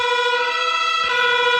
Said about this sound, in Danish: få lidt udrykningslyd på